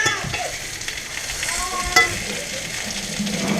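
Yellow perch fillets crowded into a pan sizzle and crackle steadily in hot oil, a close, continuous frying hiss with a brief clatter near the middle.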